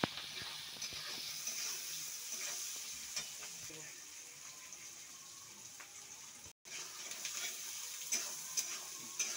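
Chopped ingredients fry in oil in a home kitchen pan, a soft, continuous sizzle with scattered small pops and crackles, briefly cutting out for a moment.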